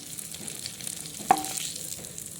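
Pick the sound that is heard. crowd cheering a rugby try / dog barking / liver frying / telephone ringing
liver frying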